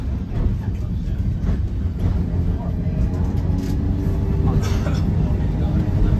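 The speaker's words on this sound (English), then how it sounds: "Tram ride this afternoon." A heritage tram, number 159, rolls along at a transport museum in Carlton Colville, East Anglia, with a steady, loud low rumble and rattle throughout and faint voices in the background.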